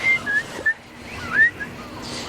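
A person whistles a few short, rising calls at a pond basin to summon a swan, the clear notes spaced out over a couple of seconds against faint outdoor background noise.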